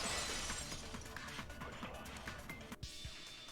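A vase shatters in a Danganronpa 2 video game scene, making a faint crisp breaking crash with scattered glassy tinkles at low level.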